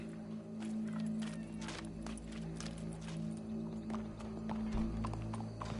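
Hooves clip-clop steadily on hard ground from a horse in Red Dead Redemption 2, a continuous walking rhythm over low background rumble, with no talk.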